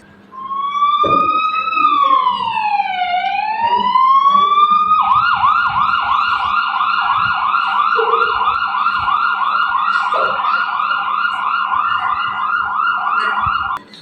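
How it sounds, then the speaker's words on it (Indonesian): A loud, continuous ambulance siren during a Doppler effect demonstration, first a sweeping wail that rises and falls, then a rapid repeating yelp holding steady to the end, with a faint low hum beneath. "saat mobil ambulan dalam keadaan diam, maka kita akan mendengar sirine yang konstan dari tempat kita berdiri"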